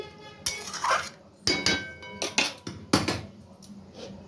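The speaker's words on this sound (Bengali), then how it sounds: "এরপর আমি ঢাকা দিয়ে দিলাম।" A metal lid is set onto a cooking pot of chickpea curry, making several sharp clanks and clinks in irregular bursts, close by, with brief quiet gaps between.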